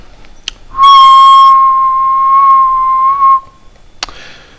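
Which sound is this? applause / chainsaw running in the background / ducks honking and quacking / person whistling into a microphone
person whistling into a microphone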